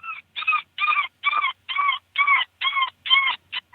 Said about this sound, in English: My favorite cottontail sound is baby cottontail.